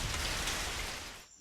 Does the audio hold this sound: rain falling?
yes